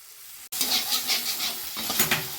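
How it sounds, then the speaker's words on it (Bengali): Masala paste sizzles loudly in a pan after a splash of water goes in, a sudden burst of hissing and bubbling with stirring over it. "জলটা আমি একটু এতে দিয়ে সুন্দর মশলাটা কষিয়ে নেব"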